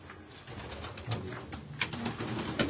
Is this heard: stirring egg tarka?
no